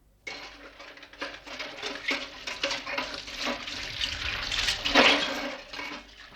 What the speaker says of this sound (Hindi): बस इतने ही बर्तन हैं? रहने दो, मैं साफ कर लूंगी।